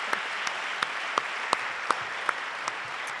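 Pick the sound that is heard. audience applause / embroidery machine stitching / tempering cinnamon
audience applause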